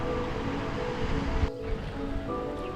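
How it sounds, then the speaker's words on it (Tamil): Water runs steadily from a side canal beside a dam in Munnar's hills, a continuous outdoor wash with a brief dip partway through and no voices. "பக்கத்தில் வேறு கால்வாயிலேருந்து தண்ணி வருது"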